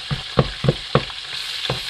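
Onions cooking in a pot sizzle softly while a spoon stirs seasoning through them, giving four or five quick scraping strokes in an uneven rhythm over the frying.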